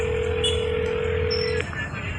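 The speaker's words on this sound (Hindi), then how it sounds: "अतन ने फिर फोन मिलाया।" A steady telephone tone holds for over a second, then cuts off, with low background noise and faint clicks behind it.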